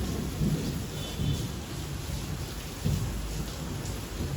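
Heavy rain pouring down in Surat, a dense steady hiss of downpour with low rolling rumbles of thunder, close and continuous with no voices.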